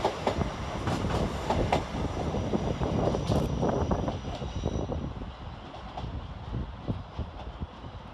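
Northern class 333 electric unit 333.013 on an Ilkley service at Leeds railway station, rumbling loud and close with rhythmic clickety-clack wheel beats that ease slightly as it passes.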